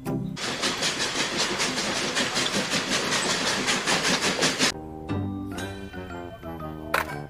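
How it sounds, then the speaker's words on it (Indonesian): Steady rhythmic chugging of a toy train engine running continuously, then it stops and a few clicks and mechanical rattles follow. "Ini lokomotif."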